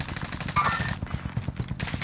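Rapid gunfire from Call of Duty: Modern Warfare, a quick string of sharp shots rattling in bursts, loud and close, with brief pauses between volleys.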